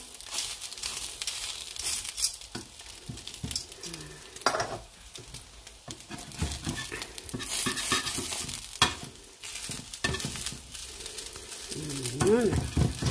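Homemade chicken hotdogs fry in an oiled pan with a steady sizzle, punctuated by stirring, scraping and crinkling noises, while someone talks over the cooking.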